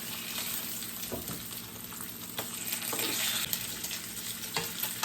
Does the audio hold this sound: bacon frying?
yes